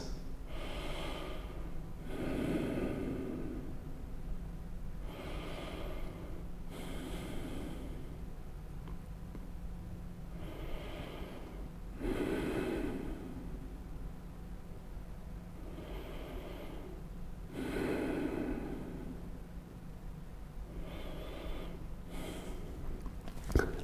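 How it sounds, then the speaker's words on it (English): Slow, deep breaths during a yoga class, roughly five or six long inhale-exhale cycles, close and soft with a quiet hum in the background and no talk. "Deep breathing, 5 breaths."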